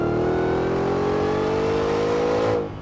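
A supercharged 5.2-liter V8 in a 2024 Ford F-150 Raptor R launches hard, one loud, sustained roar rising steadily in pitch for over two seconds before cutting off abruptly, with no talk over it.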